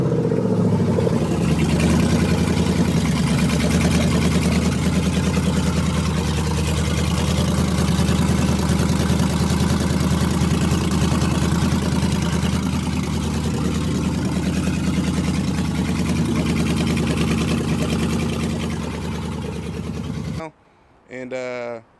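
A 1972 Chevelle with an LS engine swap idles steadily at its first start-up, a loud, continuous low rumble that runs alone for about twenty seconds before cutting off abruptly.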